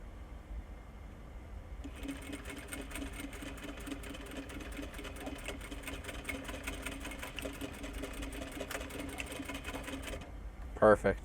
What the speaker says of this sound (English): you're going to be sewing in 2 stitches right here that act as the regulator